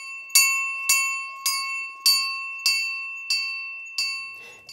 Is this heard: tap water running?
no